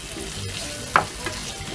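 Egg being stirred into frying masala in a pan, with a steady low sizzle throughout and one sharp scrape of the spoon partway through, followed by a fainter second stir.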